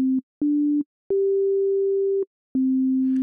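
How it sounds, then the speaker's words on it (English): A pure synthesizer sine wave tone, clean and test-tone-like, sounds in steady beeps: two short low pulses, a longer slightly higher sustained note, then another low note, all loud and alone. "Here's the sine wave."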